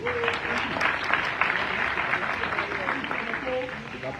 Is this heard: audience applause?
yes